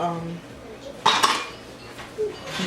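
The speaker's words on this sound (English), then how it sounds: "now I'm gonna place my wings on the" Raw chicken wings for honey chipotle wings are set onto a metal baking sheet, giving a short, close metallic clatter midway and a lighter knock just after, with no talk.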